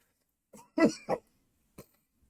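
A few harsh coughs close by, two strong ones in quick succession, then a short single cough after a pause.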